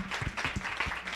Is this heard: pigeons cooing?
no